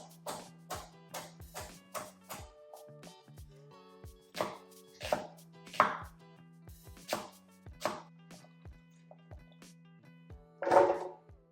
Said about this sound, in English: So we're just gonna blend it up in the food processor